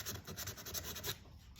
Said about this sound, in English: If you want it very heavy, just keep sanding.